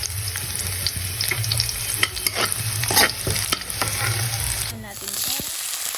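Garlic fries and is stirred in hot oil, a loud steady sizzle with scraping stir strokes close by, then a brief lull near the end.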